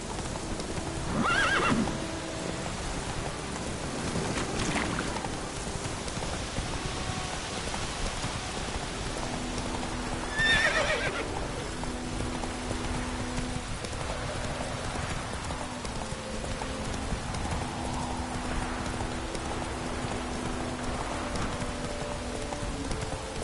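In The Witcher video game, a horse clip-clops steadily at a gallop through rain, with a few loud neighs and whinnies rising above the rhythmic hoofbeats and the constant patter of rainfall.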